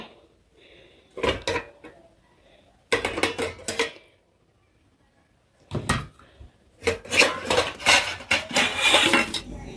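Freshly scrubbed steel plates and bowls clatter as they are set down and stacked upside down in a home kitchen, in several loud bursts of clinking and scraping separated by short quiet pauses.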